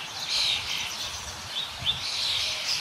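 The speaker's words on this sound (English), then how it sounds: "These are the Rosy Starlings." A flock of Rosy Starlings (Pastor roseus) feeding in a banyan tree at St. Joseph's College, Bengaluru, gives faint, busy high chirps and twitters at a distance, overlapping continuously.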